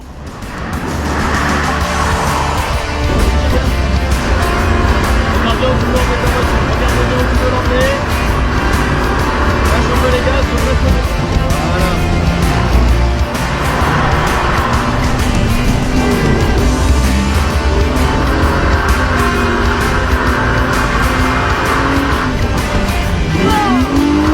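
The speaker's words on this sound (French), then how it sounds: "Luc qui s'est envoyé une petite session de drift au Castellet" A car drifting on the Le Castellet circuit, its engine droning loudly and continuously while tires squeal in long sustained waves, heard close throughout.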